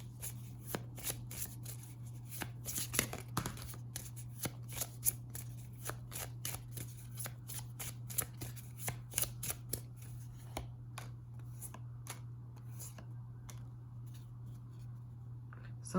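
Moonology oracle cards are shuffled close by in a quiet room, a rapid run of soft riffling snaps and flicks that continues steadily over a low constant hum.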